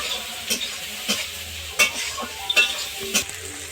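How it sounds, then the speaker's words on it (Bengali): Chopped onion fries with ginger and garlic in oil, a close steady sizzle punctuated by several sharp scrapes of a utensil stirring the pan. "পেঁয়াজ কুচিটাও আদা রসুনের সঙ্গে আমি ভেজে নেব"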